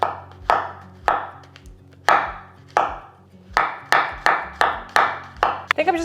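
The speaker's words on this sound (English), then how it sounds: "I think I'm just gonna chop a little bit more onion." Firm, evenly spaced knife chops on a cutting board while onion and mushrooms are cut, about a dozen loud, close strikes with short ringing tails, speeding up slightly near the end.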